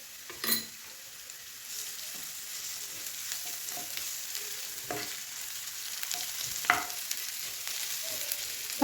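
Onions with ginger garlic paste fry in a pan, a steady soft sizzle with occasional clinks and scrapes of a spoon, close and moderately loud, no talking.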